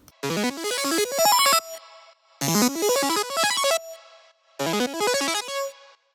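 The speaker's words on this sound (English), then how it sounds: "I have some bit crusher to make it sound more 8-bit." Gritty, buzzy retro synth phrases with rising arpeggio runs, played in three bursts separated by short pauses, harsh and lo-fi in tone.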